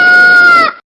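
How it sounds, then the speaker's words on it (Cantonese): A rooster crowing once, loud and close, a single sustained call of about a second that cuts off abruptly. "呢種就係雞嘅叫聲啦"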